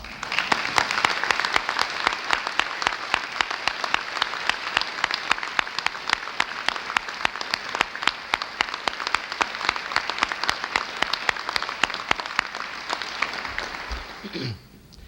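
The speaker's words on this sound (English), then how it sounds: "Let's give them a round of applause this afternoon." Steady applause from the audience at a 1991 Paducah Community College presidential inauguration as full- and part-time faculty stand, dense clapping continuing evenly for about fourteen seconds before cutting off.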